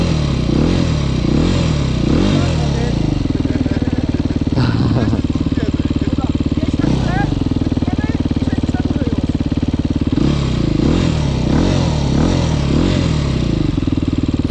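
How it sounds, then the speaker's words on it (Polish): A motorcycle engine straining as the bike tries to climb a slope, loud and close throughout, with repeated revving surges and dips and voices talking over it. "I sam on chwyci motor i pokaże, jak się wjeżdża."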